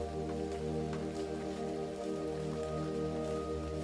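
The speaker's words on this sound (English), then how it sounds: "the rain is continuous, shifted only by the ever-changing wind." Continuous rain and wind make a steady, even wash of rainfall with a low droning undertone, unbroken and moderately loud, with no voices.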